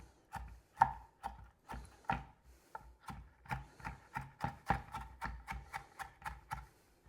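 A knife chops finely through onions and serrano peppers on a cutting board, a steady run of about twenty crisp, close strikes with an even rhythm and no talking.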